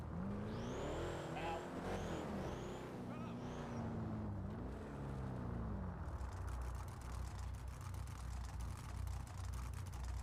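A daily-driver car engine revs and whines with rising and falling pitch sweeps over the first six seconds, then settles into a steady low rumble, heard up close with a voice talking over it.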